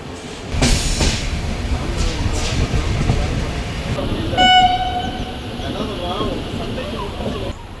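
A train rolls toward Kayamkulam railway station in Kerala with a steady rumble and rattle, a long horn sounding midway, its blast carrying clear harmonics before the clatter continues.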